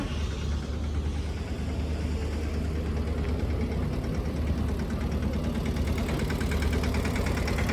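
Tractor and motor pump engines running at a construction dewatering site in Amaravati, a steady close diesel rumble with a throbbing idle rhythm that holds constant throughout, with no talking.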